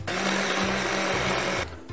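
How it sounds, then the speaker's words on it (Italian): A small kitchen blender whirs at a loud, steady motor pitch for about a second and a half, then cuts out abruptly, heard close up in a kitchen. "Se noi usiamo un frullatore piccolino"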